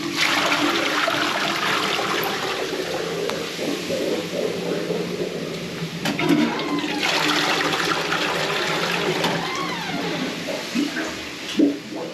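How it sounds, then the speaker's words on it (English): A toilet in a ladies' washroom flushes into a blocked drain system, a loud sustained rush of water and gurgling that continues steadily for several seconds. "We're going to go and flush the toilet."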